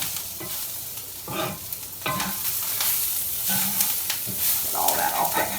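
Tomato, basil and zucchini sizzling in a cast iron skillet as a spatula scrapes and stirs in uneven strokes, a moderate crackling hiss underneath, with a voice briefly audible near the end.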